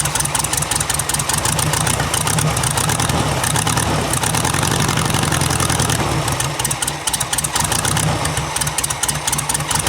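The engine of a buggy, whose throttle cable has seized, runs loud and close, with an uneven, rough, knocking chatter throughout.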